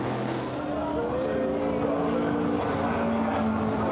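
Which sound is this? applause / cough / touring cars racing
touring cars racing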